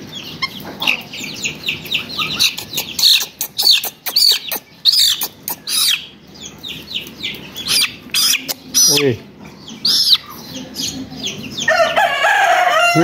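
Chicks and chickens cluck, squawk and crow in repeated bursts during poultry vaccination against Newcastle disease, with people talking over the birds and a louder burst of squawking near the end.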